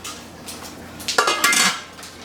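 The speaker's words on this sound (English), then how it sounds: "So I'm going to put the lid on this now." A metal lid clanks onto a water bath canning pot holding jars of brown sugar cucumbers, a short cluster of close clattering knocks and scrapes.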